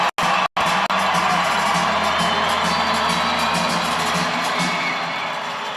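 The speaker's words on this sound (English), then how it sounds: "Gets the crowd roaring." Indoor soccer crowd roaring loudly and steadily throughout the arena, a dense wash of cheering and shouting that holds strong before easing slightly toward the end.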